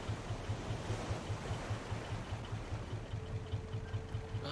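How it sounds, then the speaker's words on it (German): Ocean waves in the survival video game Raft: a steady rushing wash of open-sea water with a soft low pulse running beneath it, constant and moderately loud, with no one talking. "Die Wellen gefallen mir gerade gar nicht."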